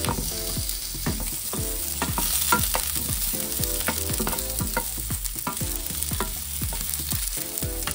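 Sliced onion sizzling and frying in a pan as ginger cooks alongside, a steady close crackle with repeated scraping stir strokes throughout and no talking.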